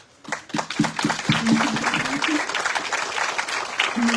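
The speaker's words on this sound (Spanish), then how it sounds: "yo quisiera que le ofreciéramos un aplauso" Conference attendees applaud as a doctor is introduced at a talk on eradicating poverty in Mexico. Claps start scattered, then build into sustained applause, while a voice speaks over the opening stretch.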